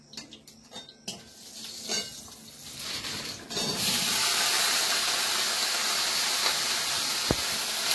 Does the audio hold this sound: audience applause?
no